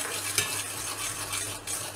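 Ground coriander, cumin powder and turmeric powder fry together in a hot pan for a Rajma masala curry base, giving a steady close sizzle with a light scrape of stirring, and no voices.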